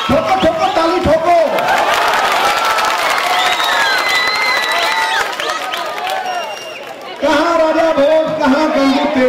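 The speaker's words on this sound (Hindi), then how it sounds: "ठोको ठोको ताली ठोको।" A large crowd at a 2012 BJP election campaign rally in Ahmedabad, Gujarat claps and cheers loudly and steadily. Voices mix into the roar, which dips briefly near the end and then surges back.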